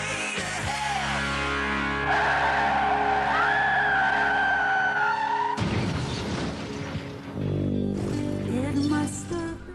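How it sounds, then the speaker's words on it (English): A car skids with long screeching tire squeals, then slams into another vehicle and flips over in a sudden loud crash with crunching impacts, followed by a brief scream and more rumbling debris, all loud and close. "The couple's car slammed into the other, causing it to flip over."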